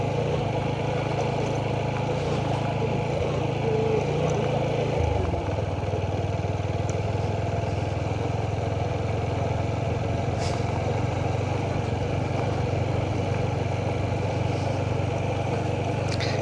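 A motorcycle moves slowly along a muddy forest road in the Jaypur jungle of Bankura, its engine holding a steady, unbroken low drone that stays close and even for the whole stretch, with no voices.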